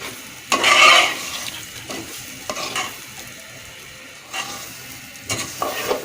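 Rice being fried in a pot for a beef khichuri, with a soft sizzle broken by several louder scraping stirs of a spoon against the pot, nearby and without speech.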